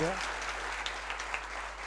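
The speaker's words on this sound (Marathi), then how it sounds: "टाळ्या अजून जोरदार होऊ द्या." An audience at a prize-giving ceremony for UPSC and MPSC students keeps applauding, a fairly quiet wash of clapping with a few sharper claps standing out and a brief vocal trace at the very start.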